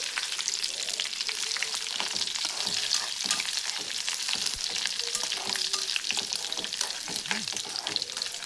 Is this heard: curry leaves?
yes